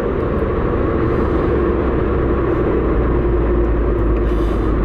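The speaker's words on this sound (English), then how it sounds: "The daily traffic jam." Daily traffic jam on a German road, a steady low rumble of idling and slowly moving cars, loud and continuous with no voices.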